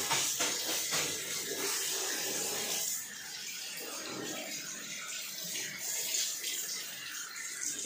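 Clothes being washed by hand with water, splashing and sloshing with hissing running water at a moderate distance, steady throughout with faint background voices.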